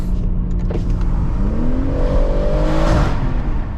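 BMW M140i with manual mode and Sport Plus engaged accelerating hard in first gear, a loud close engine note climbing steadily in pitch through a short run.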